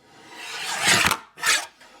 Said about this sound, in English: I want you to hear how nice this blade sounds as it goes down